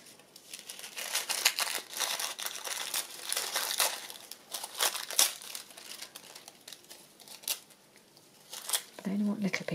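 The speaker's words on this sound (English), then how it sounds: "And just start tearing bits up." Close, repeated crinkly rips of tissue paper being torn by hand into little bits, coming in uneven bursts with short pauses between them and no voices.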